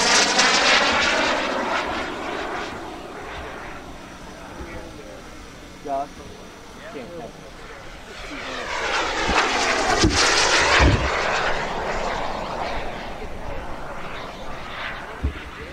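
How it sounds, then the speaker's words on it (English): A Flex Innovations F-16QQ RC jet airplane flies a slow roll overhead, its engine rising and falling in pitch as it passes near and away, loudest toward the middle. "This is the Flex Innovations F-16QQ. Nice slow roll."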